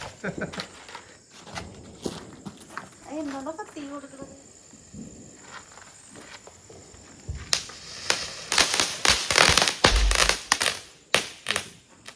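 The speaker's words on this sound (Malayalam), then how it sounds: "ഒരു പടക്കം പൊട്ടിക്ക്." Sharp firecracker bursts at a Vishu celebration crack out in a rapid, dense cluster near the end, after scattered shuffling noises and a voice in the quieter first half.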